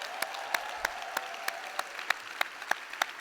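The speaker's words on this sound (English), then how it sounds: "Give yourself a round of applause." Rhythmic clapping at a conference event, evenly spaced sharp claps over a steady background hum, sounding like a sparse, measured round of applause rather than a full roaring crowd.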